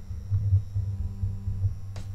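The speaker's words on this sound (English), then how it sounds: "this is a real high RPM motor, but the torque there, not so much" A high-RPM motor driving a 256:1 3D-printed plastic gear reduction that struggles for torque: a faint, steady low hum with a soft rhythmic throbbing, heard alone.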